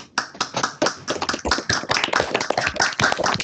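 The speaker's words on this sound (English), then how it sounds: "shall I clap for the organizers as a representative of the rest of the group?" A single person clapping steadily and fairly close at the end of an online physics conference, crisp hand claps in a quick, slightly uneven rhythm for several seconds.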